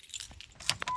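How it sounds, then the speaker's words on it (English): Car keys jangle briefly in a hand, a quick metallic clink and rattle heard up close in an otherwise quiet moment. "Keys."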